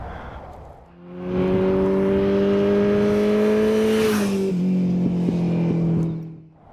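A Kawasaki Z H2 motorcycle engine revs up and holds a steady, loud, droning pitch for several seconds, dips briefly, then holds again before cutting off, with no talk over it.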